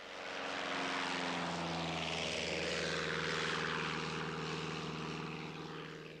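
A propeller airplane takes off with a steady, droning engine roar and whirring blades, loud and sustained throughout, swelling slightly at the middle and easing a little toward the end.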